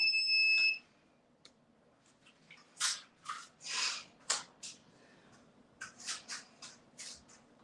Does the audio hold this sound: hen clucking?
no